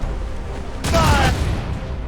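A ship's cannons fire a booming volley during a naval battle in Assassin's Creed Rogue, a loud burst rising out of a dense, noisy battle din with voices present.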